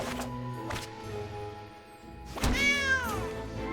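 A cat in a digital card game gives a clear rising-and-falling meow over a soft game music bed, with a couple of dull thunks earlier in the clip.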